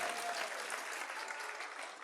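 Steady applause from an audience at a motivational talk in Brazil, a dense even patter of many hands clapping throughout, moderately loud with no voices over it.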